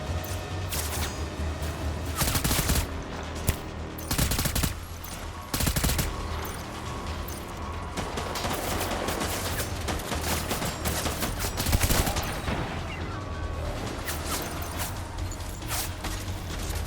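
Bursts of rubber-bullet gunfire in Death Stranding, with rapid volleys repeating steadily through the scene over a dense bed of game music and effects.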